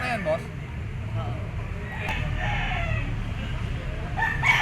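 A yellow-legged Bachoy Gray bull stag gamefowl crows nearby, its call partly covered by someone talking over it, with other farm background noise.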